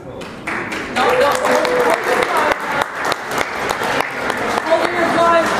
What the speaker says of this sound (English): Please hold your applause till we're all done.